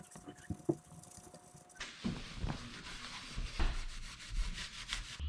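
A rag rubs and polishes faded dual exhaust tips on a Subaru WRX, giving soft, uneven scuffing and rubbing strokes with a few light knocks, fairly quiet and close.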